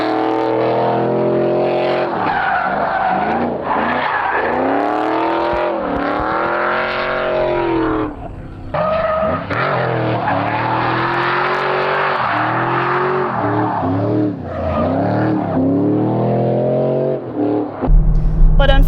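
A Camaro drift car on a track, its engine loud and close as it revs, holds long sustained pulls and shifts pitch, with a brief dip near the middle and a sharp burst at the end.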